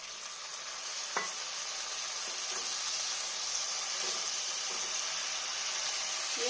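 Curry masala for an aloo kanchkola dhoka dalna sizzles and fries steadily in a pan after a little water is added, a continuous close hiss with a faint clink or two of stirring.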